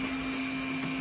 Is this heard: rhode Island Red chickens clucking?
no